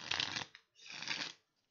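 Smooth plastic-coated bridge-size Barajas Magicas playing cards printed by Fournier in Spain, riffled in two quick close shuffles separated by a brief pause, crisp and papery with no talking.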